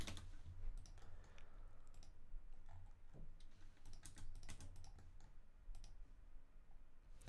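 Typing on a computer keyboard while entering a name, a quiet continuous run of close clicking keystrokes with no talk.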